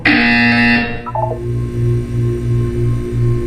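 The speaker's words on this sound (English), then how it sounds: "When you hear the buzzer, look down at the floor." A loud, steady electronic tone in Portal 2 cuts off, then a short descending blip leads into a repeating pulsed buzz, sounding synthetic like a game cue.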